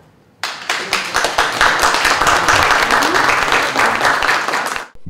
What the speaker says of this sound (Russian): В стенах администрации Крымского района звучат аплодисменты.